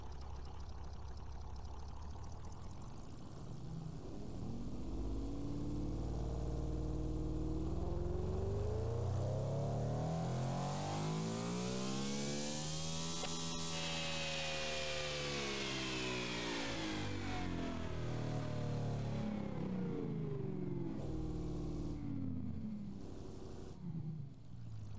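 V16 engine in a modern coupe in the BeamNG driving game revs steadily from low to high RPM and back down, a loud continuous droning roar with rising and falling harmonic sweeps, alone without talk.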